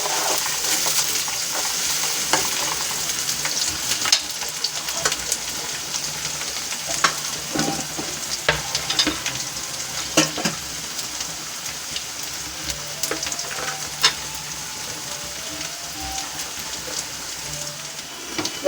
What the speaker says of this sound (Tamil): இப்போ நான் எண்ணெயில் வெங்காயம் போட்டிருக்கேன்.